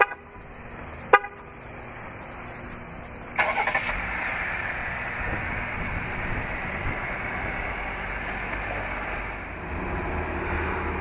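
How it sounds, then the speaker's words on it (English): A 2016 Jeep Grand Cherokee Laredo 4X4 is started remotely from its key fob: a short horn chirp, then the engine cranks and catches, settling into a steady idle heard from outside the vehicle. "To operate is easy, just double press the remote start button on the key fob."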